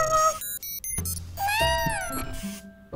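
A cartoon cat gives a bright, stylized meow with a rising and falling pitch, mixed in among other animated sound effects over about three seconds.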